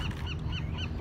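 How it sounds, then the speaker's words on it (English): Ducks quack outdoors in a quick run of about four nasal, honking calls within a second. They are moderately close over steady low background noise, with no voices. "And if you hear the ducks."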